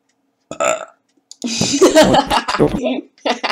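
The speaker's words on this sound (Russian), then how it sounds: "Я, короче, так рыгнул на стриме" A man gives a loud, close, rumbling burp during a live stream, lasting over a second, with short vocal sounds just before it.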